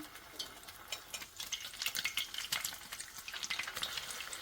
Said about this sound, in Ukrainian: І до рум'яності смажемо